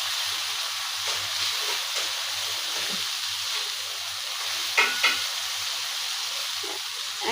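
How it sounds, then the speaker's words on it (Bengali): Ground spices and goat brain fry in a pan as they are stirred. A steady, fairly loud hiss of sizzling runs throughout, with a few brief scraping strokes midway and no voices. "এখন যতটা ভালো করে কষানো যায় যাতে মশলার গন্ধটা না থাকে।"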